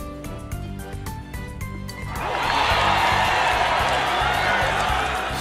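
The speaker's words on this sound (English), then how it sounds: "The roar of the crowd is insane this time." Crowd roar in the Persona 4 Golden video game swells in around the midpoint, a loud, sustained wash of cheering that replaces quieter game music and holds steady to the end.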